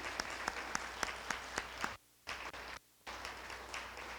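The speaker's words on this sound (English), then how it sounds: "I please have a round of applause for the Boy Scouts," Guests at the Crystal Eagle dinner give a faint, distant round of applause for Boy Scouts Troop 170, a steady patter of clapping broken by two brief drops to silence.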